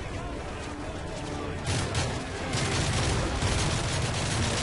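Sustained bursts of rapid gunfire from the Call of Duty MW3 campaign, moderately loud and growing denser after the first couple of seconds, with a voice briefly under the shooting.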